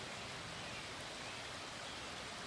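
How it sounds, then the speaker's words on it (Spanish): A river flowing steadily somewhere in Washington gives off a continuous broadband rush of water, even and unbroken throughout, quiet and without any talk over it. "Y ahí está este río,"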